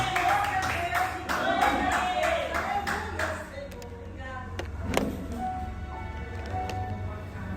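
A church congregation claps along rhythmically for about three and a half seconds, then the clapping fades into quieter room noise with a sharp knock midway.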